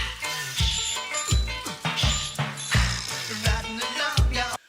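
A 1990 cover of a song plays loud and full, a driving rhythm with punchy low beats repeating roughly every half second under bright guitar and vocal layers, no talk over it.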